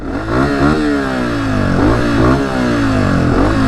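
A Honda CRF250F dirt bike engine revs and drones steadily close by, its pitch rising and falling through several throttle swells while riding in the Arizona desert.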